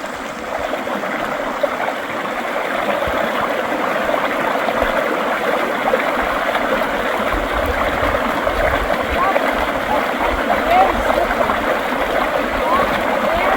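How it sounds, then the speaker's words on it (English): Water of a stream flowing steadily over rocks at an unbridged crossing on a trail, a continuous close rushing and trickling sound with a faint voice beneath it. "We just had another unbridged stream crossing that required going into the water"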